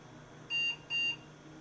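Two short, high-pitched electronic computer POST beeps in quick succession, clear and close, against a quiet low hum.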